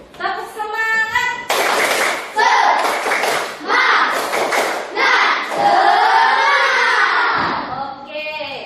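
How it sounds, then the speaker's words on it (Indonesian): A classroom of children doing a rhythmic spirit clap, bursts of loud group clapping in patterned beats alternating with shouted chanting voices, close and energetic. "Tepuk semangat."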